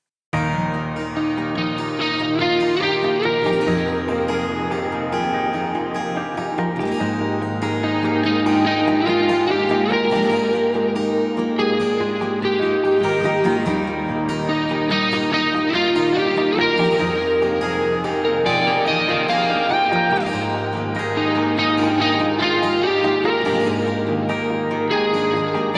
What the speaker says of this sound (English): So then together, the keys and the guitars sound like this.